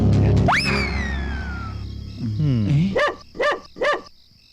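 Several dogs barking and yelping loudly close by in a quick burst, following a rising whine and a short squeal, with a person talking as well.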